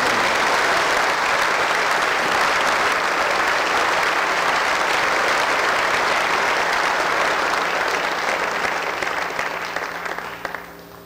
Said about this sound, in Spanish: ¿Por qué no dan un aplauso al pueblo de Israel?